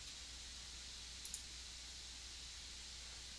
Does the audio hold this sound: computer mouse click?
yes